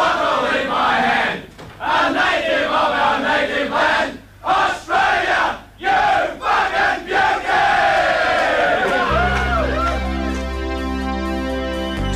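A cricket crowd at an Ashes presentation roars and cheers in loud surging waves with brief dips, then music swells in under the fading noise toward the end.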